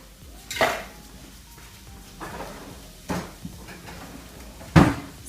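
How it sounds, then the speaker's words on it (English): A metal whisk clatters into a pan during cooking, with a loud clank near the start, softer kitchen knocks in the middle and another sharp metallic clang near the end, set against a quiet kitchen background. "So I'm dropping my whisk."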